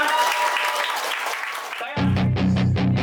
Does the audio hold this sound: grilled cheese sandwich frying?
no